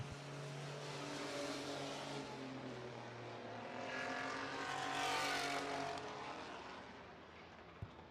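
Race trucks at Midvale Speedway drone past on the oval, engines rising and fading as the pack moves down the backstretch, fairly distant and faint, with a brief click near the end and no talk.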